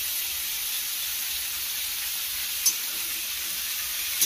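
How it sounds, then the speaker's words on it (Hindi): Peas and potatoes fry in a pan with a steady, even sizzle and hiss, close and constant throughout, with a couple of faint clicks and no talk. "और मटर को भी अभी थोड़ा देर तक फ्राई करते हैं दोस्तों"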